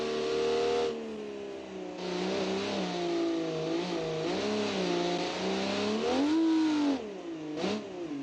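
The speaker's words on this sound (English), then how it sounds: "It's a very loud 2CV." A Citroen 2CV's small engine revs up and down repeatedly, loud and close, its buzzy pitch rising and falling as the car accelerates.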